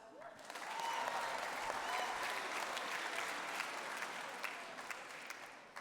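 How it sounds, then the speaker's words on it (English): Sustained applause from a graduation ceremony crowd, a dense steady wash of clapping that swells in and holds for several seconds before tapering slightly. "Keep that applause going for Shalvesh Dutt."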